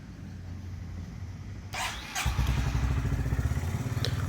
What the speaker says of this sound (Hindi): और अभी बाइक स्टार्ट कर दिया मैंने